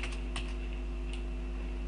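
Arrow keys on a computer keyboard tapped a few times in quick succession, light close clicks over a steady low hum, with no talking.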